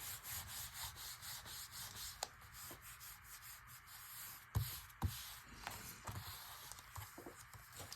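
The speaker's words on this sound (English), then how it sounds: "Nice little rub down." Rubbing down a paper collage page by hand, a soft continuous scratchy rub with occasional sharper strokes and creaks, faint and close, with no talking.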